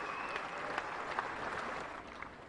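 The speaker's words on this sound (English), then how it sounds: "What about a round of applause for these magnificent cricketers?" Crowd applause at a Test match in Sri Lanka between Sri Lanka and Australia, a steady dense clapping from a large stadium audience saluting the cricketers, sustained throughout with a few sharper claps standing out.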